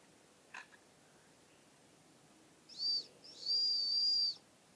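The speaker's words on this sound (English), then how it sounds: "So it does work, and I didn't really blow hard on it, so the whistle works." A survival whistle from the sheath kit of a budget FLISSA survival knife gives a short shrill blast, a brief pause, then a longer sustained shriek, close and fairly loud in an otherwise quiet space.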